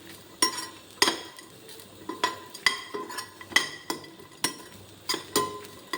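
A spice mixture with a small piece of tamarind being dry-roasted and stirred in a pan, regular close spoon knocks and scrapes against the metal about once a second, with no talking.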